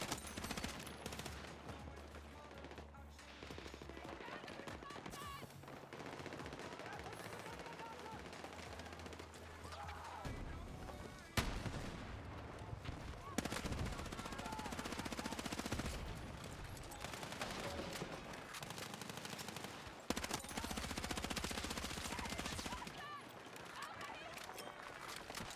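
Rapid submachine gun fire in the Battlefield 6 video game, bursts of gunfire and explosions in a busy combat soundscape, with a player talking over it.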